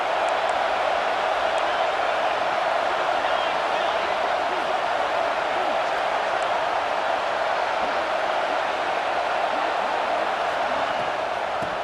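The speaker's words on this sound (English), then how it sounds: "This crowd knows when to bring it" Steady stadium crowd roar from a college football video game matchup against Alabama, a dense continuous wash of cheering and noise that holds at an even level throughout with no breaks.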